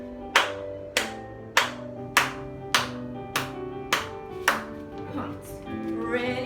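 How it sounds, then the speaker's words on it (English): Eight crisp hand claps ring out at an even, steady pace during a ballet class, with a sustained piano-like tone underneath and soft movement sounds after the last clap. "8 claps first"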